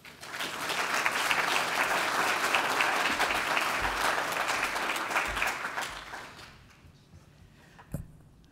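An audience at a lecture on tea and Japan breaks into sustained applause for an introduced speaker, full and steady before gradually thinning out, with a faint knock near the end.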